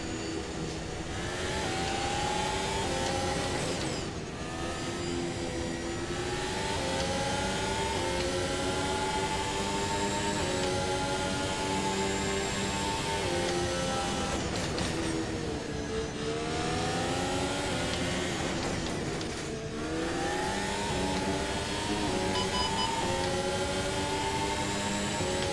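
Race car engine in the sim racing game Automobilista 2, a continuous loud high-pitched drone with rising and falling pitch sweeps as it revs through gears, with brief dips at shifts, running steadily for the whole stretch.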